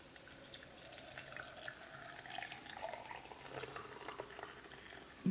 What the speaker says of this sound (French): on va faire bouillir de l'eau, pourquoi pas?